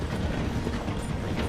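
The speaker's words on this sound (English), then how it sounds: "The train is slowing down to go through the station." In the Red Dead Redemption 2 game, a train slows through a station, its rail cars giving off a dense, steady mechanical clatter and rumble up close, with no talk.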